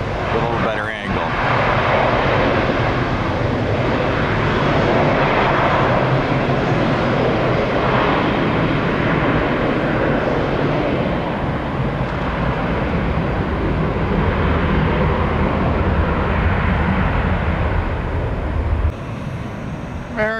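An Airbus airliner, probably an A321, roars loudly and steadily at Tampa airport in the pre-dawn hours, a sustained broadband jet rumble that lasts about twenty seconds before easing off at the end.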